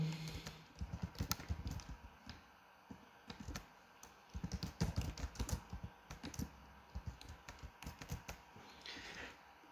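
Typing on a computer keyboard while filling in an Easypaisa merchant account signup form online, with quick irregular clusters of soft key clicks running steadily and close by, no voices.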